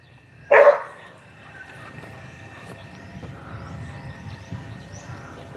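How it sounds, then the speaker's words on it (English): A single sharp dog bark from playing dogs rings out early, then gives way to quiet outdoor background noise on a jungle property in Mindanao, Philippines. "Dogs are playing over there."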